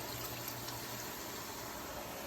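Water pours into a cooking pot in a home kitchen, a soft continuous splashing hiss at low volume that runs evenly with no talk.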